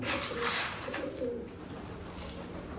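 Pigeons coo softly in a steady low murmur, with faint rustling and background hum throughout.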